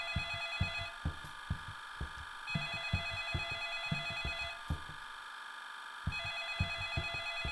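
A telephone rings in a horror video game, repeated electronic trills in a steady pattern, faint and tinny, over soft rhythmic thumps like footsteps.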